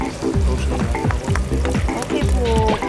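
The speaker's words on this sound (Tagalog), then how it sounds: "Igigisa muna ang luya, sibuyas, bawang at kamatis." Ginger, onion, garlic and tomato sauté in a hot pan, a loud close crackling sizzle broken by the scrape and clatter of stirring, with a voice talking over it.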